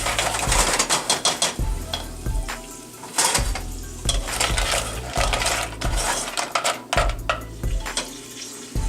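Clams are stirred in a pot for a butter shallot broth. Shells knock and scrape against the metal in quick, irregular clinks over a constant sizzle, close and loud, with no talking.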